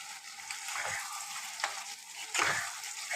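Paneer sizzles and spits in butter in a pan, a steady close frying hiss broken by a few louder stirring bursts.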